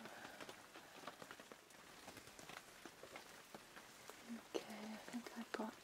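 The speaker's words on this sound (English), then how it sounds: "Gosh, the rain is relentless today." Relentless rain falls at night as a soft, steady patter, with scattered close taps and rustles and a low murmured voice near the end.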